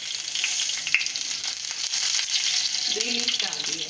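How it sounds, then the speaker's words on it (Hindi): Cumin seeds sizzle in hot oil in a pan, a steady, close hiss of frying that continues throughout, with a faint voice murmuring near the end. "उसमें 1 चम्मच मैंने जीरा डाल दिया है"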